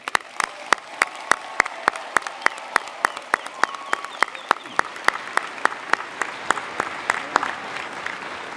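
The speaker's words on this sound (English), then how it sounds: "Please join me in congratulating them together with a round of applause." A commencement audience applauds graduates at the Oregon Tech Klamath Falls ceremony. The clapping is sparse and crisp, with distinct individual claps in a quick irregular rhythm, and a crowd murmurs beneath it.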